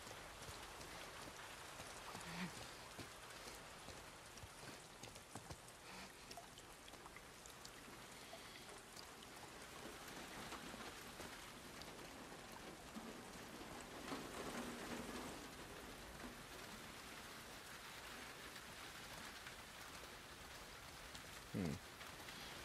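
Steady rain pours in The Last of Us Part 2 video game, a dense continuous hiss of drops on surfaces with faint low rumbles, filling the scene without any speech.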